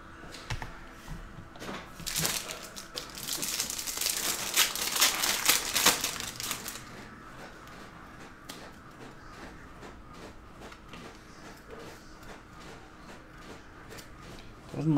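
Topps Chrome jumbo trading card pack being ripped open: several seconds of loud crinkling and tearing of foil wrapper close by, then quieter shuffling and rustling of cards, with no one speaking.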